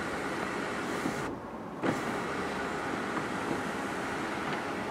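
The panoramic sunroof motor on a Nissan Qashqai 360 dCi hums steadily as it closes, with a brief dip and a soft thunk partway through, heard close inside the car with no talking.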